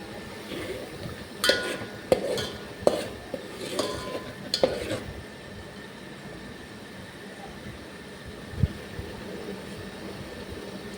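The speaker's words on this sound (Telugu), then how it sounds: "ఇప్పుడు కొంచెం కలుపుకోవాలి." Fish curry stirred in a pot with a spoon, a run of scraping strokes and metallic clinks at close range, then a quiet stretch with one more knock.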